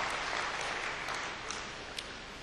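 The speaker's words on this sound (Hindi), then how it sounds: "एक बार तालियां बजा करके मेरी हौसला अफजाई कीजिए" An audience at a mushaira poetry gathering applauds, a dense wash of many hands clapping that holds steady and then gradually thins toward the end.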